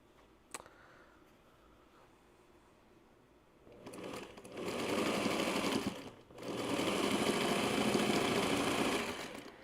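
A sewing machine named Ruby pieces a quilt: after a near-quiet start with one sharp click, two long, loud stitching runs whir close by, separated by a brief pause.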